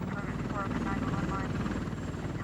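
A helicopter flies overhead with a steady rotor drone, and someone talks over it throughout.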